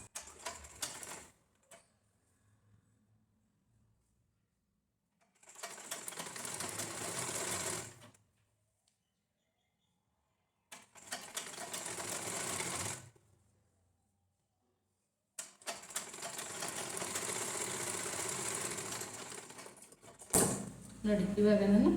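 A sewing machine stitches the side seam of a lined blouse in three separate runs, each a few seconds long, with quiet pauses between them and a brief rustle near the end.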